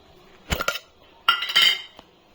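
A spoon clinks inside a favourite cup of milk as sugar is added: two quick clusters of close, bright taps, then a single light tap.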